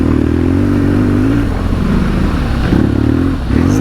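Harley Davidson Pan America motorcycle riding off-road, a loud, close, steady engine drone with a slight rise and dip in pitch toward the end and gravelly clatter underneath, with no speech.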